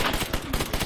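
Rapid automatic gunfire from a World War II battlefield shooter, a fast run of close, punchy shots in quick succession with no pauses.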